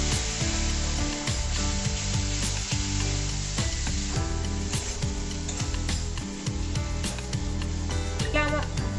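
Spices with salt, turmeric and a splash of water stir-fry in a pan for arbi (taro) curry, making a continuous dense sizzle. Repeated spatula scrapes and clicks sound close throughout.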